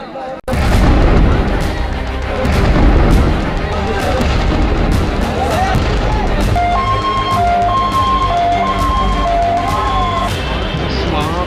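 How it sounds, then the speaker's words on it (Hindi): Gas cylinders exploding in a burning truck loaded with cylinders in Dharavi, Mumbai: a sudden heavy boom, then a dense, roaring rumble of fire and blasts, with voices and a steady tonal siren-like sound on top. "सिलेंडर का जो ब्लास्ट लगातार हो रहा था"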